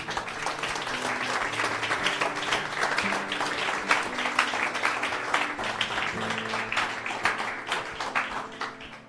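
A church congregation claps and applauds steadily for several seconds, the dense crowd clapping filling the room while musical tones sound faintly beneath.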